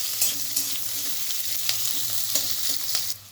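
Two medium-sized onions fry lightly in a pan, a steady close sizzle with occasional soft stirring scrapes and clicks, and no voices.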